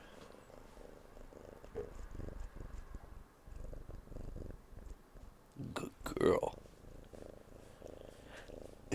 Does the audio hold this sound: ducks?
no